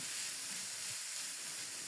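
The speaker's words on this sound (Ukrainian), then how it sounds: "І це все мені треба обсмажити до готовності овочів приблизно 7-8 хвилин." Chopped vegetables with bell peppers fry in a pan for shakshuka, giving a steady, even sizzling hiss that stays quiet and unbroken for a couple of seconds.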